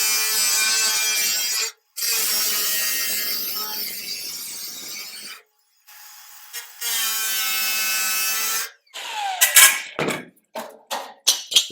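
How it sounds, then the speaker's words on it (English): An angle grinder trimming back metal on a custom build, long steady high-pitched whining passes broken by short pauses, then a series of quick bursts and taps at the end. "it's going to be easier to whack it with that grinder again"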